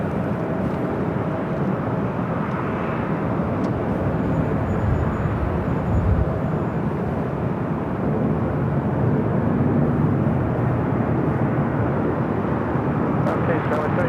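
An airliner arriving at LAX for runway 24 right, a steady, broad jet roar that holds evenly throughout without any clear rise or fade.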